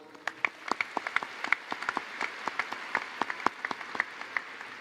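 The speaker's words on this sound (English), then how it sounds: "Join me for a round of applause." Applause from a graduation ceremony audience after a choir's national anthem: distinct, scattered claps ring out over a steady crowd bed, moderately loud and continuous throughout, with no talk.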